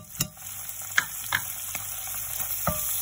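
Onion frying with ginger, garlic and turmeric in a pan gives a steady close sizzle, broken by a few sharp spatula knocks and scrapes, with no talking.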